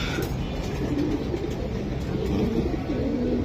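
Giribaz pigeons, including a Bezi breed bird, coo in a low, steady murmur that runs unbroken throughout, close and moderately loud with faint higher chirps above.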